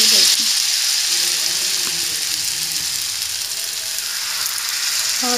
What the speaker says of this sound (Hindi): तेल गरम हो चुका है, अब हम इसके छोटे छोटे पीसेस जो हैं डाल देते हैं।